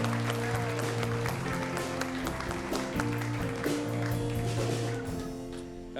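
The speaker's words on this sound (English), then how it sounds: "give a warm round of applause to our stand-up comedian" Audience at a late-night comedy show claps to welcome a stand-up comedian to the stage, a crisp, close patter of many hands sustained for several seconds over a low sustained music bed, then easing slightly at the end.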